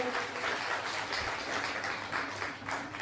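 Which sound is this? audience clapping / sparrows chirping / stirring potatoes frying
audience clapping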